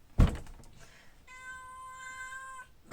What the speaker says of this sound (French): Elle miaule.